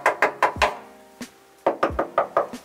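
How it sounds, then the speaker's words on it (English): Two quick series of knuckle knocks on a hollow camper van body panel, close and resonant with a low boom, separated by a short pause and a single knock. "If knocking that, you can hear the difference in how much they boom"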